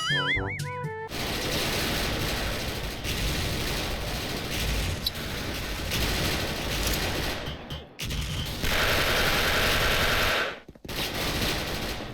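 Sustained machine gun fire in the online shooter game Special Force. The dense, loud bursts run almost without a break for about twelve seconds, with two brief gaps, and no voices.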